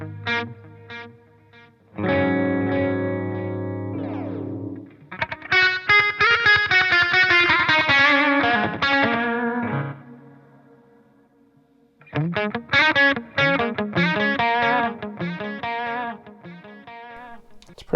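Electric guitar run through the delay section of an M-Vave Tank G multi-effects unit with a digital-type delay at mid time setting: chords and melodic notes ring with repeating echoes trailing after each phrase, a pause near ten seconds, then more playing.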